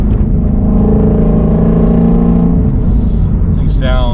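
A Shelby Mustang V8, a GT350 or GT500, runs with a loud, deep rumble that climbs in pitch as it revs and then fades, and a voice talks over the engine near the end.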